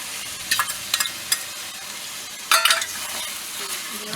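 Garlic goes into a pan of hot oil with ginger paste and sizzles gently, with a few quick scraping stirs near the start and a louder burst of stirring midway.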